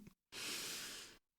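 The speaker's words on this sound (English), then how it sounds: "Let's just take a breath." A person draws one long, audible breath in through the nose and mouth, close and clear, lasting about a second after a brief pause.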